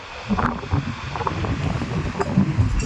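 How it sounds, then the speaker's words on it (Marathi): Strong gusty wind buffeting the microphone at Purnagad Fort on the Ratnagiri coast, a constant low rumble with bursts of roar, under faint distant surf. "वारा भरपूर आहे, त्याच्यामुळे आवाज ब्रेक होईल"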